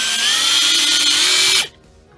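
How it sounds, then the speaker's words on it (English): A power drill boring a hole through the center of an arcade cabinet panel for wiring, a loud steady whine held for about a second and a half before cutting off abruptly into quiet. "we're going to drill a hole right in the middle there"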